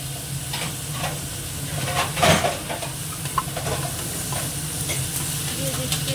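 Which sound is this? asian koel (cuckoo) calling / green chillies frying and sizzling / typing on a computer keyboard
green chillies frying and sizzling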